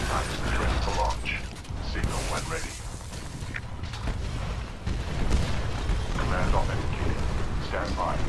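In Titanfall, a Titan drops in amid loud mechanical clanking, creaks and heavy rumbling booms, with dense battle noise throughout the stretch.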